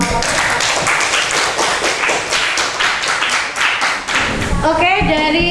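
A classroom audience applauds presentation group 6 with dense, steady clapping from many hands, loud and close, trailing off as a voice begins speaking at the end.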